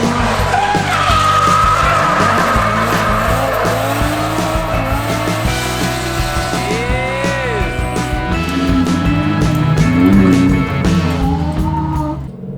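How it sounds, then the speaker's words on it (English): A Toyota JZX90 drifts on a Japanese mountain track on old worn tires, its engine revving hard under loud, continuous tire squeal that rises and wavers throughout with barely audible voices. "So now Sam took the car out to finish off the old tires."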